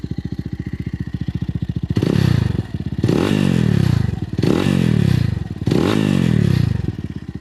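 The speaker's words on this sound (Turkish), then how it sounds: "Biraz da ara gaz verelim." An RKS M250 motorcycle engine idles with a rapid, loud, even putter, then is revved three times in repeated surges that rise and fall back to idle, with a loud exhaust heard up close.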